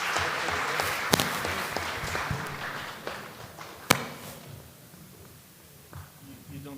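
Audience applause at a startup pitch event, a dense wash of clapping that runs steady for about four seconds, then thins and fades to a quieter room with a few scattered taps.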